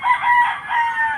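A Red Kelso gamecock crows once at a game farm, loud and close, a drawn-out call with no other sound around it.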